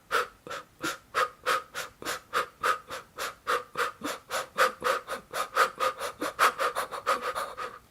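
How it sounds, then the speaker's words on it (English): Breathing for overtone singing in a quick in-out-out pattern, a long run of sharp, evenly spaced breaths, close and loud, with no other sound. "what you hear him do is a very, very special breathing rhythm and pattern, which is in, out, out, in, out, out, in,"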